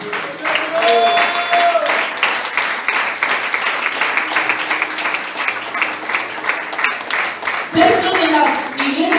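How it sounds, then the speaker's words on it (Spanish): Church congregation applauding steadily throughout, a dense wash of clapping with voices rising over it and a loud shout near the end. "Aplaudan al Señor."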